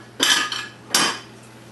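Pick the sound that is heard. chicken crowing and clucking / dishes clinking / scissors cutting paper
dishes clinking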